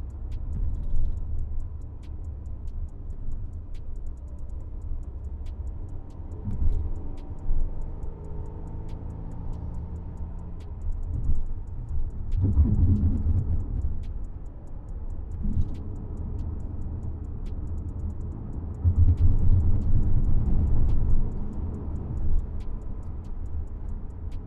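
A 2020 Mercedes-Benz GLC 300 Coupé AMG Line in Sport mode gives off a low, steady engine and road drone from the cabin on a hillside drive. The drone swells in places, and faint regular ticks run through it.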